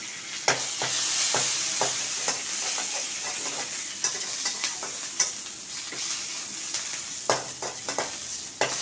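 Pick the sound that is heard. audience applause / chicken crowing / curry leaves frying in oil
curry leaves frying in oil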